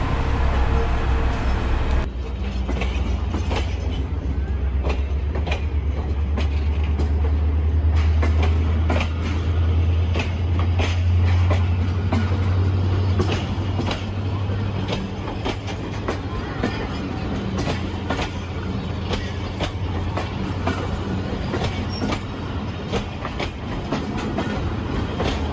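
Pakistan Railways Bolan Mail passenger train at Drig Road station, a steady loud rumble with rhythmic clickety-clack of wheels over rail joints continuing throughout as the carriages roll past.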